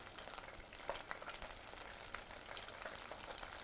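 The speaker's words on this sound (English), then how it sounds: "I got oil popping all over the place" Beer-battered dogfish and fluke frying in hot oil, with a steady, quiet sizzle and scattered sharp pops and crackles throughout. No talking.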